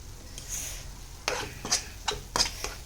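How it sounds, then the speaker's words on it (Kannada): Paneer masala gravy stirred and fried in a pan, a steady soft sizzle under several sharp scraping strokes of a spoon against the metal, close and fairly quiet. "ಇದೆಲ್ಲ ಮಿಕ್ಸ್ ಮಾಡಿಕೊಂಡು ಚೆನ್ನಾಗಿ ಫ್ರೈ ಮಾಡಿ"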